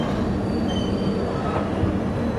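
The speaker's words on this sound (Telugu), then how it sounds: "ట్రైన్ అయితే బ్రిడ్జ్ లో ఆగిపోయింది గైస్" A train stands halted on a railway bridge, its steady low rumble and faint metallic squeal filling the scene at close range, with no talking.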